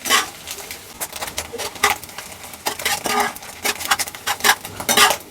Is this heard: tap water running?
no